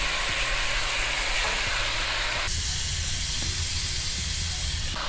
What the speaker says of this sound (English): We will fry each side 5 minutes.